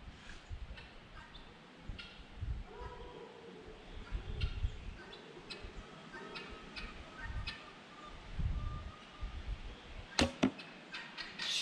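A bare-shaft arrow loosed from a traditional bow and striking a target, with scattered light ticks and rustles building to a sharp impact crack near the end, outdoors with faint birdsong behind.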